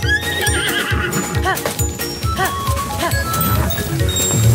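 A horse in the video game Zelda: Tears of the Kingdom gives several loud, close whinnies with clip-clopping hooves, set against game music.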